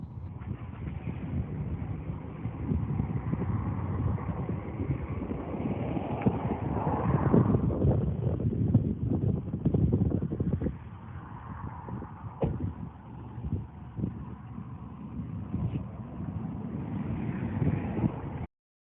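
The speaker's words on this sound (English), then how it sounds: "I was hoping you could hear some of the audio of the wind there" Steady wind blowing across the waterside at Jamestown, a continuous low rushing roar buffeting the microphone, swelling and easing over nearly twenty seconds with no voices.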